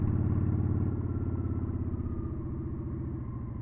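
A Honda Shadow motorcycle rolls along in low gear on a desert road, its engine giving a steady, loud, low throbbing pulse with rapid even firing beats that ease slightly over a few seconds.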